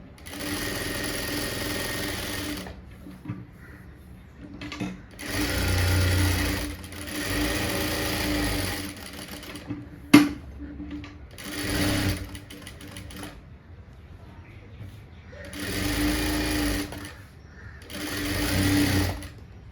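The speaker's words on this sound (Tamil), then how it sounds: "அந்த துணியை நேராக வச்சு அழகாக இப்படி கொண்டு வந்து தையல் போட்டுக்கோங்க" A sewing machine stitches blouse fabric in several loud, steady whirring bursts separated by short pauses, close to the microphone, with no talking over it.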